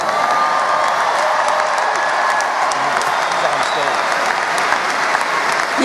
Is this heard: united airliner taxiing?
no